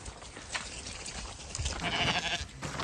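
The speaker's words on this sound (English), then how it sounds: "So this is just our ewes, hopefully pregnant ewes, and we'll bring them in" Pregnant ewes on a farm bleat at a distance over a windy, rustling background, their calls faint and intermittent and growing slightly busier toward the end.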